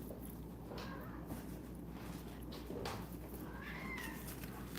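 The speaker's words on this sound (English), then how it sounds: "the meowing that you hear in the background is Oreo" A cat named Oreo meows softly in the background indoors, giving a couple of faint, drawn-out cries over a low steady hum of room noise.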